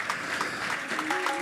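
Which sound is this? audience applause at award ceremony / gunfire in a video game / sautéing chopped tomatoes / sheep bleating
audience applause at award ceremony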